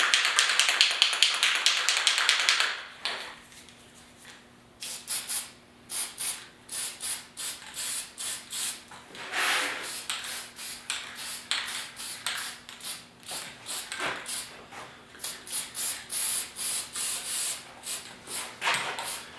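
An aerosol can sprays flat black paint onto homemade automotive trim clips. A steady hissing burst opens the sound, then short bursts of spray follow, mixed with repeated light taps and handling noises, close up with no voices.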